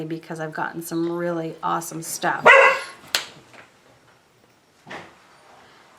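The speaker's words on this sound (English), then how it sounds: "that was my dog barking" A dog barks several times nearby, with sharp repeated barks cutting across someone talking indoors.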